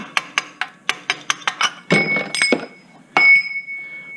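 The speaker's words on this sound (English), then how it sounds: "give it a little bit of a tap with a wrench" Wrench tapping a stuck part during a tune-up on a 2005–2011 Hyundai Accent, a quick series of sharp metallic clinks followed by louder ringing knocks with a lingering tone.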